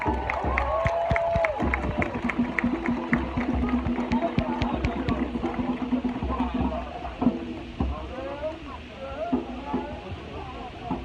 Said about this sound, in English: So can we give Andrew a round of applause, please, people?